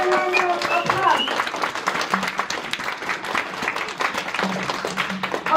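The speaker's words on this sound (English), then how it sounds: "Let's give him another round of applause." Audience applause at a youth leadership seminar in North Carolina, honoring Andrew Yang: steady indoor clapping from a room of people running through the whole stretch, with some voices faintly mixed in.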